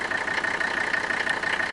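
An old Mercedes 300SD diesel engine idling, a steady, even mechanical rumble with a clattery texture, close and fairly loud, running alone without speech.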